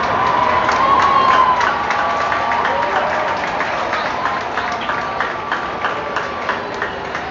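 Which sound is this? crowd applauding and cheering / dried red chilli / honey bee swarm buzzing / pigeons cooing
crowd applauding and cheering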